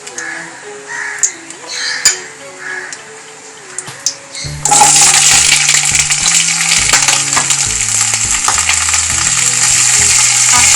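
Cut potatoes go into a hot pan for matar paneer. After a quiet start, a loud sudden sizzle of frying bursts in and keeps crackling steadily, with tonal background music underneath.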